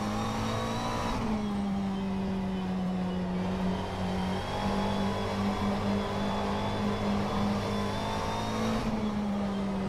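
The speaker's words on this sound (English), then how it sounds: "I can definitely tell there is a difference between this car's sound and the 650S." A GT3 race car in the simulator rFactor 2 holds a loud, steady engine drone with a strong whining tone throughout, changing only slightly in pitch.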